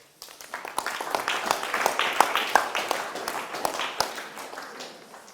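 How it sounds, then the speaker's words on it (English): A seated audience at a spiritual mentorship talk applauding someone, a burst of many hands clapping that swells, holds for a few seconds and tapers off, close and lively, with no voices. "Let's clap for him."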